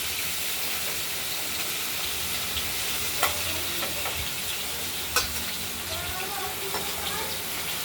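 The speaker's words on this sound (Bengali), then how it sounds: "আর কিছু মাছ আছে এগুলোকে ভেজে নেবো" Pieces of rohu fish fry in hot oil with a steady sizzle, while occasional stirring clinks and scrapes ring out close by over the constant hiss.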